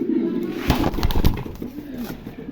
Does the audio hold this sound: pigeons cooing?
yes